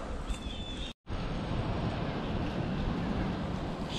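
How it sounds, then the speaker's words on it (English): Steady wind rushes across the microphone outdoors, broad and continuous, with a brief dropout near the one-second mark. "It's pretty windy."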